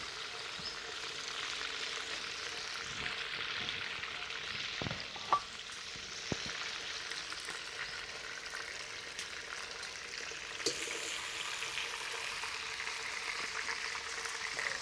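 Chicken pieces frying in oil in a pan on a wood-fired clay stove, a soft steady sizzle with a few light clinks and stirring sounds.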